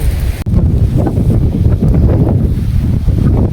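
Strong wind on a high hilltop in the Papikondalu hills buffets the microphone in a loud, continuous roar with low rumbling gusts.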